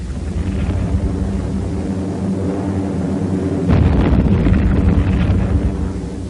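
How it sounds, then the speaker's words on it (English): Allied warplanes attacking a Japanese amphibious invasion force near Milne Bay, New Guinea, in WWII newsreel footage: a steady, loud, rushing engine roar that swells into a heavier, gusty rumble midway, with no voices. "Allied planes went to work on the enemy amphibious force."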